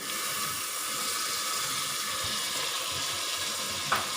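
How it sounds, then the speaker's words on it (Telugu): Washed mutton tipped into hot oil in a pot, a steady broad sizzle that holds evenly throughout, with a small clink near the end. "ఇప్పుడు ఇందులో మటన్ వాష్ చేసి పెట్టుకున్న మటన్ని వేసుకోవాలి."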